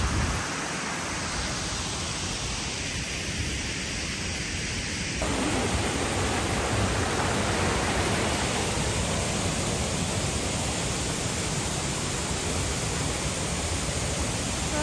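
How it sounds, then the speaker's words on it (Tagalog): Guide Falls waterfall in Tasmania, a continuous dense rush of falling water, steady and fairly close, with a slight shift in intensity partway through and no talk. "Here's the falls, guys. Look at that."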